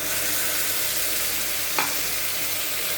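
Steady, dense sizzling of spice paste frying with onions in a pan, with a single soft scrape or clink of a utensil near the middle.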